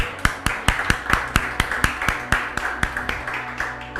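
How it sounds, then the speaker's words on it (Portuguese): Steady rhythmic hand clapping in praise during a Portuguese-language church lesson on spiritual warfare, about sixteen sharp claps at an even tempo, close and loud, with no talking over them. "Vou dar salve de palmas para Jesus."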